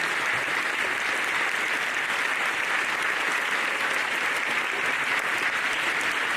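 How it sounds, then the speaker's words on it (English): An audience applauds a school music program at a naturalization ceremony at Bonny Eagle Middle School, a steady, loud wash of many hands clapping that holds unbroken from start to finish. "I think they deserve a really good round of applause."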